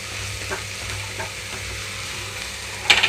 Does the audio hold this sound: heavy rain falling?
no